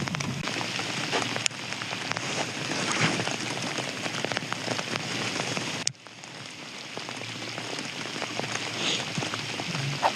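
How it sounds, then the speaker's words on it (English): Heavy rain pours steadily during a fishing outing, a dense, continuous hiss of drops striking surfaces, loud and close throughout with a brief dip midway, and no talking. "At this point, it's raining harder than ever."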